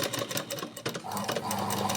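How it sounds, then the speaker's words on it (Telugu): A regular home sewing machine stitches maggam embroidery in a fast whirring run, pausing briefly before starting again, with someone talking over it. "నేనైతే చుట్టూ ఇలా ఇలా పై ఒక కుట్టు అయితే వేసుకుంటూ వస్తున్నాను అంతే"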